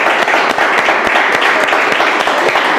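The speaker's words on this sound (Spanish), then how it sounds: "Dale un aplauso al Señor." A church congregation claps for the Lord during a service, a dense, loud burst of sustained applause with many overlapping hand claps filling the room.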